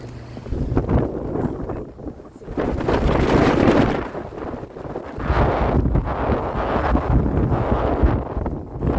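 Strong wind roars during a snowstorm in Scarborough, Toronto, buffeting the microphone in loud, sustained gusts that ease briefly before surging again.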